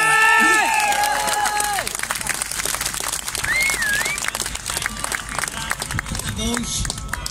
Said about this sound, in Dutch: Nog één keer een heel groot applaus voor deze unieke persoonlijkheden.